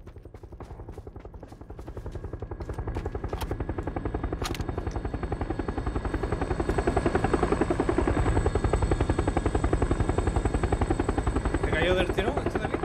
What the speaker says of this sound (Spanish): Viene el helicóptero